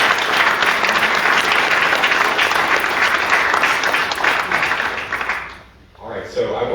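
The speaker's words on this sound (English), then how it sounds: "another round of applause for our panelists" An audience applauds for a panel of speakers at a presentation, dense sustained clapping filling the room for about five seconds before fading out, with a voice starting to speak at the end.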